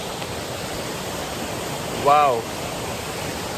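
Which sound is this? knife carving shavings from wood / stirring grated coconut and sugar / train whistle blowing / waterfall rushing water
waterfall rushing water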